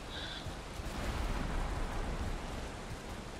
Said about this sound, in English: And of course it's going to rain out.